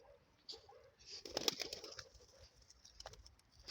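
Faint pigeon sounds close by: a brief flurry of wing flapping and soft cooing, with light rustling, quiet overall.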